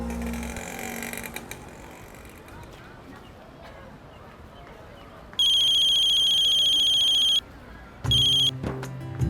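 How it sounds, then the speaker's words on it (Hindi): An outgoing phone call rings back, giving two bursts of an electronic ringing tone separated by a pause, with faint room sound and a brief voice or bump before. "मैं अभी दीदी को फोन करती हूँ"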